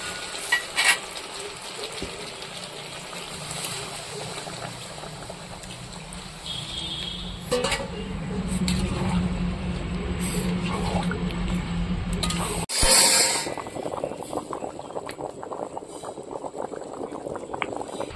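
Hot water is poured into a pot of spiced, browned duck meat on a home stove, giving a steady rushing splash for several seconds, then a sudden burst of bubbling and hissing as it meets the hot pan. No one talks.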